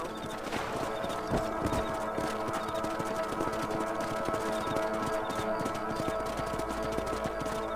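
Steady horse hooves clip-clop throughout a ride in the video game Red Dead Redemption Remastered, the rhythmic thuds sitting in a dense bed of game ambience and music.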